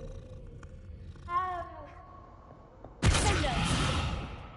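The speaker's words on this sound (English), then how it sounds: "I found my cat in the game." A cat in Hogwarts Legacy gives a short, rising series of meow-like cries, then falls quiet before a sudden loud, broadband burst of game noise cuts in.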